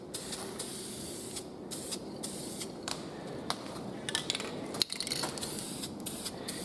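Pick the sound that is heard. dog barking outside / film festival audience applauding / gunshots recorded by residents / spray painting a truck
spray painting a truck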